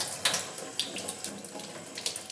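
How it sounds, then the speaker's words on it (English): A small stream of water runs steadily from a tap while an egg is being made, a soft continuous trickle with faint splashing pulses, close and quiet, with no voices. "I'll just get a small stream of water going"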